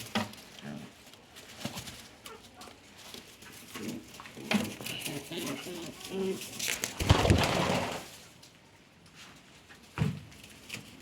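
Pigeons coo softly around a rural coop with a turkey nearby, low murmuring calls scattered over a background of shuffling, rustling and occasional bumps, fairly quiet and close.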